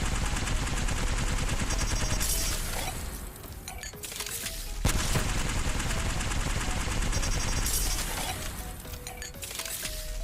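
An L-Star energy gun in Apex Legends emptying a full magazine, heard as loud sustained automatic fire in two long bursts, each broken by a brief mechanical pause and reload clatter.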